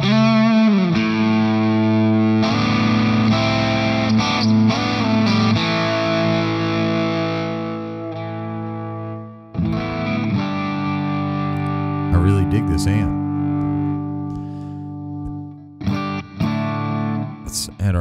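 Electric guitar through a distortion pedal in the Yonac ToneStack Pro amp app, sustained gritty chords and single notes ringing out with heavy gain, briefly dropping out and resuming, played alone and up close.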